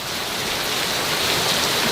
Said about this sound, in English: nice rolls of thunder, and this rain is just,